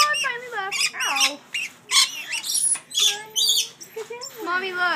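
Lorikeets squawk and screech up close while perched on a person's shoulder and hand, a busy run of sharp, rapid calls in bursts, with a voice speaking among them.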